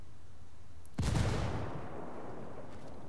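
A frag grenade blast in a ranked online shooter game: one sudden loud explosion about a second in, with a brief booming low-end burst and a crackling tail that fades over the next two seconds, with no talk.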